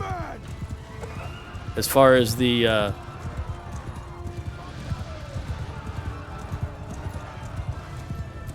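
A horse neighs loudly in a medieval battle game, with the whinny rising and falling over about a second. Steady hoof clip-clop runs underneath and someone talks quietly over it.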